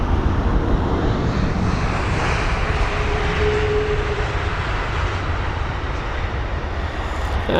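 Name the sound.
British Airways Boeing 777-200ER jet arriving at London Heathrow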